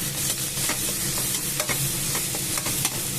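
A handful of small onions sautéing in hot oil with mustard seeds for a spicy crab fry, giving a steady close sizzle broken by repeated stirring scrapes of the spoon against the pan.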